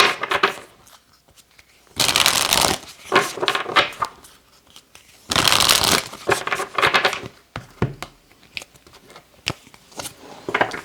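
Oracle cards being shuffled by hand, bursts of crisp riffling and rustling flicks that come in two longer runs with scattered shorter shuffles between, close up and without talk.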